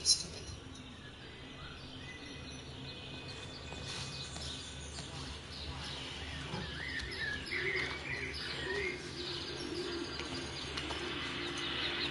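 Birds chirp and coo, pigeon- or dove-like, in a video game scene, steady and fairly faint over a continuous ambient bed, with a voice speaking intermittently.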